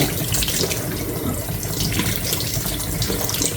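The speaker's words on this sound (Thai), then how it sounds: "ทุกคนล้างเห็ดค่ะ ล้างเห็ดตัดแกงใส่หน่อใหม่" Mushrooms are washed under a running tap in a sink, giving a steady, close rush of splashing water with no talking.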